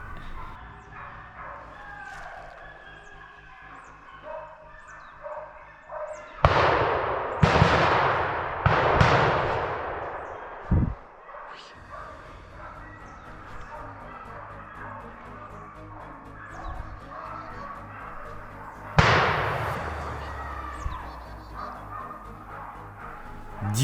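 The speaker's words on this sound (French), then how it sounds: "17 coups de carabine seront tirés en quelques instants et 6 sangliers seront prélevés." Rifle shots during a driven wild boar hunt, with several sharp, loud cracks in quick succession, a later single report and one more shot near the end, among faint dog barking and background noise.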